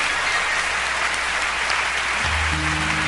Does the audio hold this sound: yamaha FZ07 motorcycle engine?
no